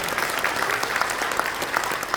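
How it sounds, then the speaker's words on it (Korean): A church congregation claps for their pastor in a sustained burst of dense applause that holds steady for the whole stretch, filling the room. "우리 목사님께 힘찬 박수 다시 한번 격려해 주시면 감사하겠습니다"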